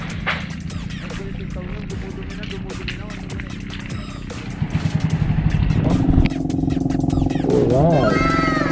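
Motorcycle engine running nearby during a rural harvest outing in Anda, Pangasinan, a steady droning hum that swells and rises in pitch as it revs, with people talking over it.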